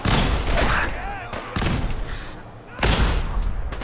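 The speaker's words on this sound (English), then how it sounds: "Oh, that's a shotgun." Shotgun blasts and heavy gunfire in the video game Fallout 4 Far Harbor, a few loud booming bursts with thuds in quick succession, close and dominant.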